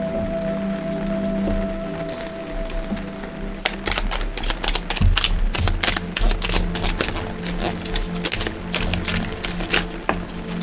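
A deck of tarot cards is shuffled by hand after a low steady hum, giving a dense run of close papery flicks and slaps that continue to the end.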